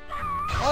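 A short cat meow comes from the PS1 game Tom and Jerry in House Trap, sliding in pitch and rising in loudness toward the end.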